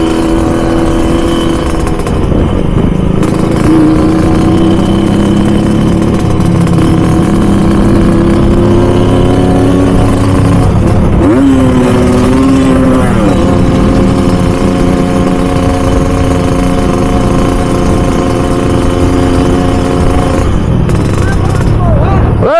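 A Kawasaki KLX150 motorcycle engine idles and revs loudly and close up in dense street traffic, with rising and falling throttle pulls over a steady rumble. A few voices are faintly audible beneath it.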